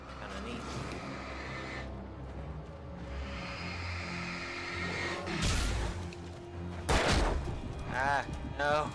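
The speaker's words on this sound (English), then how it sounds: "Shotgun." Shotgun blasts ring out in the survival-horror video game Alan Wake, with loud bursts and sharp booms rising over ongoing game sounds and a player's voice.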